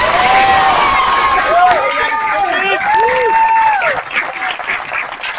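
A crowd at a graduation ceremony claps steadily and loudly, with whoops and cheering voices rising over the dense applause throughout before it thins slightly near the end.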